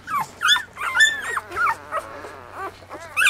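A litter of nine newborn puppies whimpers and squeals in quick, high yips and whines, several cries overlapping close by at a steady volume for a few seconds.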